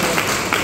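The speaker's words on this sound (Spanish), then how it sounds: "Quiero pedir un aplauso por esta fecha especial" Brief burst of audience applause at a municipal anniversary event in Villa Hayes, Paraguay, dense and loud, a continuous wash of many hands clapping close by.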